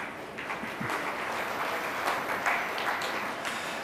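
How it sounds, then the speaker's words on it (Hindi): Audience claps during a Hindi spiritual discourse, a continuous wash of hand claps lasting a few seconds at even loudness, with faint voices mixed in. "तुम ताली तो बजाते हो"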